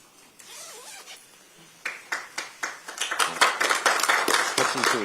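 A jacket zipper being pulled closed in a short series of quick rasping strokes that speed up and grow louder, with a murmuring crowd behind at an Incheon mayoral campaign rally.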